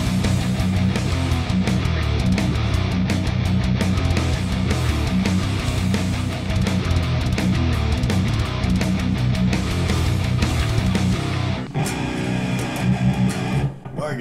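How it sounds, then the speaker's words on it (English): A loud, dense distorted thrash metal riff on a seven-string electric guitar with tight chugging palm-muted power chords, driving steadily before thinning out near the end. "this is going to be more like a classic palm muting with power chords riff here"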